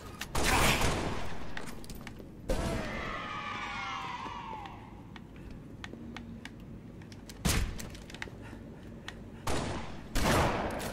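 Gunfire from a Halo: The Master Chief Collection multiplayer match: loud bursts of shots at the start, around the middle and near the end, with a sweeping whine of game effects between them.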